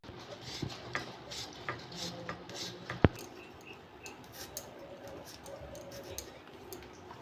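A knife cuts papaya into small pieces, heard as quiet, irregular taps and scrapes on a board with one sharper click partway through.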